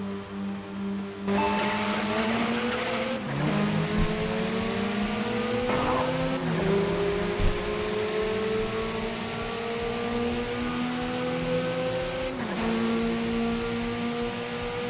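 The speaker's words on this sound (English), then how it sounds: "Fast car." A fast car's engine in a racing video game drones steadily at high revs, its pitch climbing and dropping abruptly at several gear shifts, with no talk over it.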